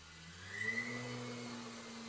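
Washing machine motor on a speed regulator with reverse, spinning slowly with a steady hum and a faint rising whine, close and alone.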